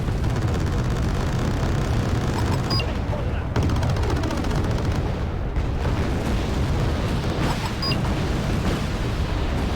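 Steady rapid gunfire and explosive bursts from a video game fill the whole stretch, loud and dense, with no clear pauses.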